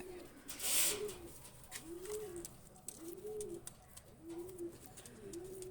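A Pakistani high flyer pigeon coos in a steady rhythm, about one low call each second, close by, after a short rustling burst near the start that may be flapping wings.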